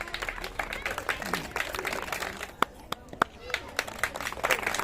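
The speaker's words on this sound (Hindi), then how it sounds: "जोरदार ताली देंगे" Audience at a cultural programme and Chitragupta Puja gathering clapping in a light, scattered patter, with a few sharp louder claps, under a speaking voice.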